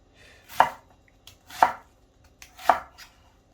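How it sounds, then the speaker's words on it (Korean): Three evenly spaced knife chops through onion on a cutting board at home, each a crisp close thunk about a second apart, with quiet pauses between and no talking. "일단 양파를 이렇게 썰어야 되나?"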